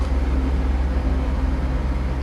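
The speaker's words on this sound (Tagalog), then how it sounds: "Padaanin lang muna natin yung dumaan na truck." A truck passing close by on a street, giving a steady, loud low rumble of engine and tyre noise that holds level for the whole stretch with no pauses.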